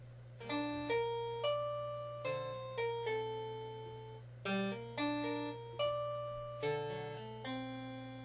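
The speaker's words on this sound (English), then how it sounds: "it now sounds like the music is being played on a harpsichord" MIDI playback rendered with a harpsichord-like voice: crisp plucked notes struck one after another, each decaying quickly, in a steady rhythm with some chords, played alone with a constant low hum underneath.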